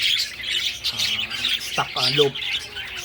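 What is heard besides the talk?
pet parakeets chirping in a flight cage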